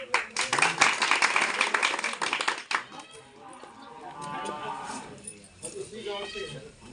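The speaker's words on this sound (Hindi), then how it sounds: "तालियां" A small group claps briskly for a few seconds at a gathering, the sharp hand claps fading out as voices take over and talk continues afterward.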